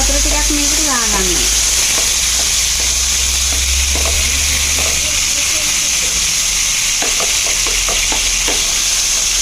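Chicken devil sauce with tomatoes sizzles and hisses steadily in a pan after a splash of water, with stirring scrapes and a brief voice-like tone now and then over the constant frying.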